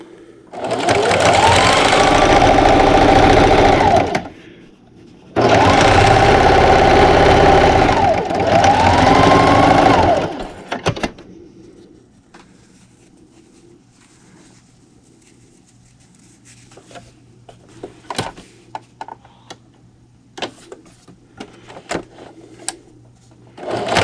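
A sewing machine stitches a dish towel, its fabric edge run along the presser foot, in two long, loud, continuous bursts separated by a short pause, followed by quiet handling noises and faint clicks.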